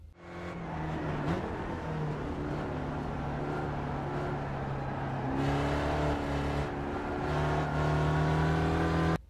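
Spec Racer Ford race car engine in the iRacing simulator at Spa-Francorchamps, a steady loud drone held near one pitch that climbs as the car accelerates and shifts gears, with no voices.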